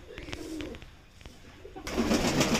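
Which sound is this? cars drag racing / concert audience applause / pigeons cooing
pigeons cooing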